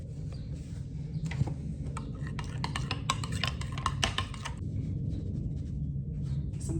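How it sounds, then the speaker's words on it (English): Seasonings being stirred in a bowl, a quick run of light clinking and scraping strokes over steady background hum, fairly close and moderate in volume. "Let's mix this up."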